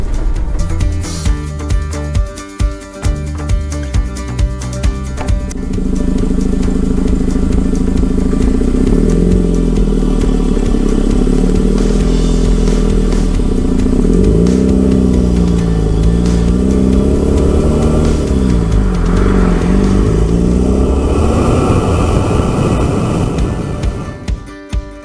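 A 2013 Land Rover Defender 110 long wheelbase with a 2.2 engine and in-house upgrades, idling with rhythmic pulses at first, then a loud steady run with several rising and falling revs.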